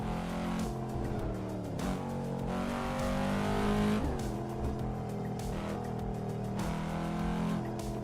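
A Volvo engine at full throttle in Assetto Corsa on a Japanese road roars steadily through the gears, with brief dips at each shift, loud and continuous, no talking.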